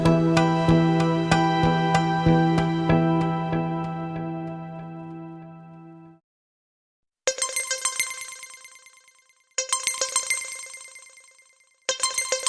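A telephone rings at night in a quiet room, a loud repeating electronic trill that plays for about six seconds, breaks off for a moment, then resumes in short bursts, heard alone without voices.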